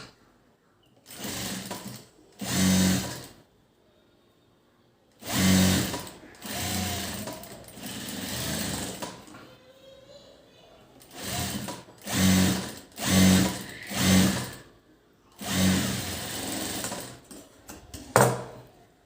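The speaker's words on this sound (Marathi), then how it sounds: "आता ह्याच शिलाईवर शिलाई मारून घेणार आहोत" Sewing machine top-stitching over an existing seam on a blouse, running in repeated loud bursts of rapid whirring with short pauses between runs, no talking.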